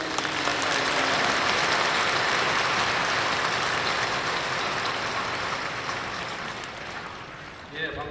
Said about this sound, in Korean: 나오실 때에 힘차게 박수로 환영해 주시기 바랍니다.